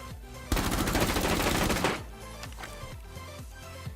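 Rapid automatic gunfire in the video game Rainbow Six Siege on PS4, a dense loud burst lasting over a second, followed by a few scattered single shots and clicks.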